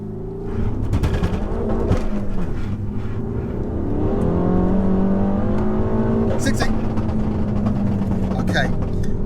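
A 300 bhp Stage 2 Peugeot 308 GTI making a launch run, with the engine note climbing through the revs, a gear change, then a steady rising pull, loud and close, while people talk over it.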